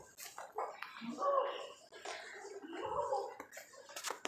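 A small puppy gives short yips and whimpering barks in a few bursts close by, with brief quiet gaps between them.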